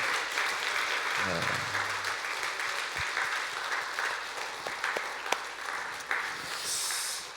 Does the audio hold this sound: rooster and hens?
no